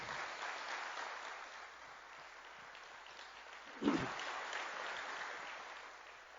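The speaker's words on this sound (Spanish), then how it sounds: "le demos un aplauso a Dios" A church congregation claps through a sermon gathering, the sound distant and soft, with one louder thump partway through and the clapping carrying on steadily.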